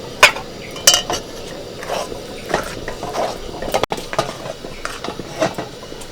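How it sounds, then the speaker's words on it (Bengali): A spoon scrapes and knocks in a wok as rice flour cooked with hot water is stirred into a thick dough, producing irregular close clinks and scrapes with soft thuds and no talking. "খুব ভালো করে কড়াইতে নাড়াচাড়া করে চালের গুঁড়ো পুরো সিদ্ধ করে নেব।"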